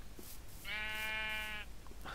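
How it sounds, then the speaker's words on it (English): A single sheep bleat from Minecraft, one sustained nasal call of about a second, clear and close over a quiet background hum. "Sadly, that's another sheep, unfortunately."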